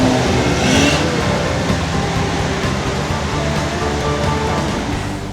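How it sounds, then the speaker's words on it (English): Nissan GQ Patrol 4WDs, almost stock with no lockers, ploughing through bog holes in a forest, a loud steady rush of engine and splashing water that fills the whole clip with no talk. "And we caught these GQs coming through in the gravesite ones."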